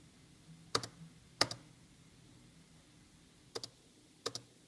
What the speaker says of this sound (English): And now when I press spacebar